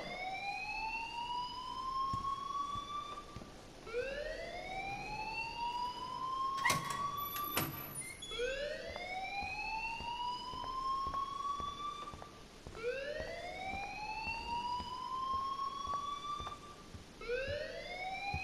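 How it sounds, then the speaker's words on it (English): A school alarm in the game Life is Strange wails continuously, a rising siren-like sweep repeating every few seconds at moderate distance, with a brief clatter midway and no talk over it. "please turn off that alarm since that's your job"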